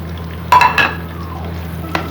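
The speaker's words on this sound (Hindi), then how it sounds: "इसको फ्राई करेंगे।" Round gourd pieces stirred into a pan of oil with garlic and ginger, giving two short bursts of scraping and sizzle near the start and a soft clack toward the end over a low steady hum.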